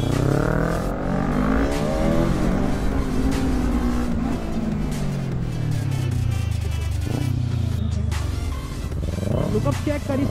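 An RS motorcycle on its stock exhaust rides along, its engine note rising and falling steadily and loudly up close, with voices talking over it.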